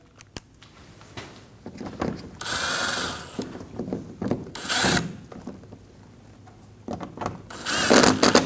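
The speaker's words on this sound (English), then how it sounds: "Install the screws up through the bumper. Get them nice and snug." Screws are ratcheted up through the front bumper of a 2012-2022 Volkswagen Passat, giving close, bursty ratcheting clicks in a few bouts with short pauses between them.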